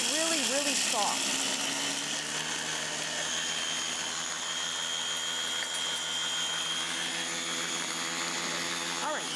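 Almonds grinding in a blender, a steady loud motor whir with a gritty rattle of nuts running unbroken throughout, under a few brief spoken words near the start.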